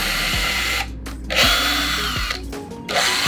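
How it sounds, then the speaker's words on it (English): A power drill bores pilot holes into reclaimed pallet wood: loud whining bursts that rise and cut off several times in quick succession, close up, with no talking. "use your drill to get some pilot holes"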